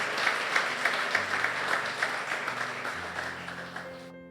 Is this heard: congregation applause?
yes